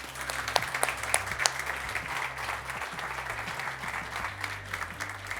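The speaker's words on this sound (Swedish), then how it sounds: "En varm applåd till Sara Sjöström." Audience applause fills a talk event welcoming swimmer Sarah Sjöström on stage, steady dense clapping from a crowd with music playing underneath throughout.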